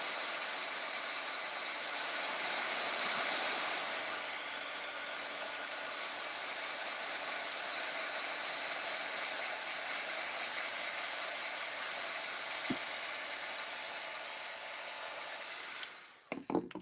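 A hair dryer runs steadily and close for about sixteen seconds, drying gold paint on a mason jar, a constant airy whir with no talk, then stops with a couple of brief clicks.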